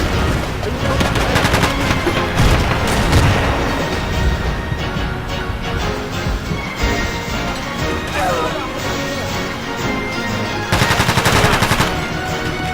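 Rapid bursts of automatic gunfire and single shots in the video game Battlefield 2, loud and dense, with crashing impacts between volleys.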